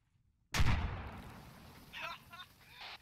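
A single heavy gunshot-like blast rings out in a video game after a moment of silence, aimed at a plane rigged with explosives. A long rumbling decay follows, with a few faint, higher crackles near the end.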